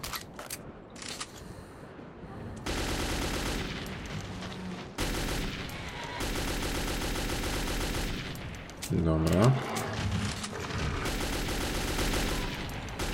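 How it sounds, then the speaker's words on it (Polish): Gunfire from a shooting sequence in the video game Metro 2033, dense bursts of rapid shots running through most of the stretch over in-game noise, with a brief spoken word from a man near the start. "Nie wiem, czy nie za głośno jest czasem strzelanie."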